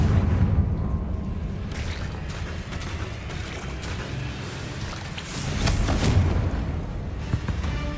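A Confringo fire spell in Hogwarts Legacy erupts into a deep, rumbling blast that swells partway through, set against a dense, churning background roar.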